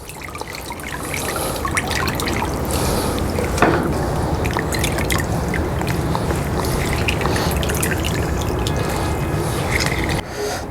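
Boiled spinach balls squeezed by hand for palak paneer, a steady close splashing trickle of water streaming and dripping out, continuous and fairly loud throughout.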